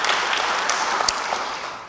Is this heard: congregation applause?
yes